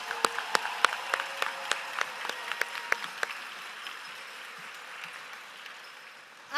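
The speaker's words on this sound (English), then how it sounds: "Can we give them all another big round of applause?" Scattered applause at a school board celebration of excellence, with a few distinct near claps over a softer crowd clapping that fades away toward the end.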